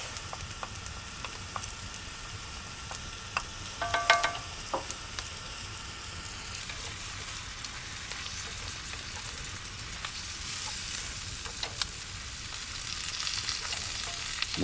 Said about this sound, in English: We sear them until translucent and we add the tomato paste.